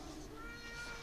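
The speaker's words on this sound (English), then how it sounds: "shush cat" A house cat gives a single drawn-out meow, close and moderately loud, with a steady tonal whine in it and no talking.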